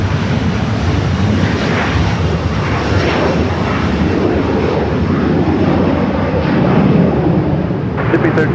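A Mas Air Cargo Airbus A330 at LAX roars past as a loud, sustained jet engine rumble with a swelling, shifting whine, and a commentator talks over it.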